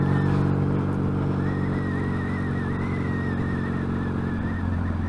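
A Yamaha XS650 motorcycle fitted with new peashooter exhausts is ridden along, its twin engine giving a loud, steady throbbing drone with a faint rising whine over it, sustained without a break.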